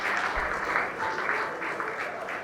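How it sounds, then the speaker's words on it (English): An audience at an award ceremony claps during a citation, a steady dense round of applause at moderate volume with faint voices beneath. "Another round of applause."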